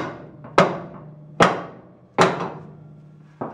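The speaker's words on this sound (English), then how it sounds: "so we'll just have to hammer it into place here." Four heavy metallic hammer blows, spaced about a second apart, driving a part into place on a 1972 Toyota Celica pro-touring build in a workshop, close and ringing briefly after each strike, with no talk.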